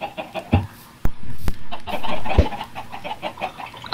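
Chickens cluck in a survival video game, a run of close, repeated clucks and squawks, with a few sharp clicks and thumps mixed in.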